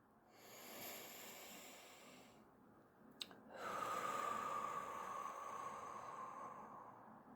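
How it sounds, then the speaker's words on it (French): A slow, deep relaxing breath taken close to the microphone in a quiet room: a soft inhale, a short pause, then a long, steady hissing exhale, with no talk. "Je respire en même temps que vous. Première respiration."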